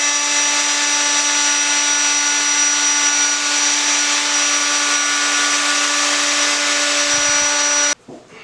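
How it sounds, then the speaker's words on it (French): A wood router machines a clamped tabletop for a writing desk: a loud, steady high-pitched motor whine with a strong tonal buzz holds for about eight seconds, then stops abruptly. "Le serrage du plateau et son usinage à la défonceuse."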